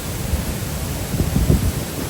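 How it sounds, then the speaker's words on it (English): Spray and roaring water from Ouzoud waterfall fill the air up close as a heavy, low, rumbling wash with gusty swells, loud and continuous with no talk. "So we're getting a lot closer to the waterfall."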